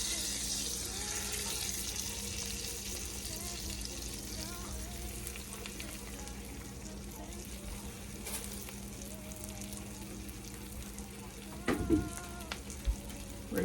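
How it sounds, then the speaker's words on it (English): Pork chops fry in butter and avocado oil in a pan, a quiet, steady sizzle running throughout, with a brief clatter of handling near the end. "We're going to get our pork chops in."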